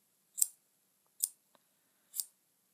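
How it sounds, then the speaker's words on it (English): Three crisp, close snips of scissors trimming the edges of a handmade rustic yarn pom-pom, evenly spaced and isolated against near silence. "I can just go around the edges here with the scissors and neaten that up as I see fit"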